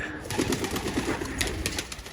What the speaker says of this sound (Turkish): şu geçen sırada kaybettiğimiz kuş yok mu bak